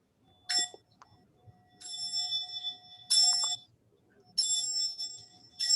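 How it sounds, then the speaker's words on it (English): A ritual bell rings in strikes during an ancestral somatic session, each bright metallic peal sustaining and ringing out over a steady low tone, with quiet background rustle between strikes. "Let this bell go to all your ancestors, all those who want it, who need it."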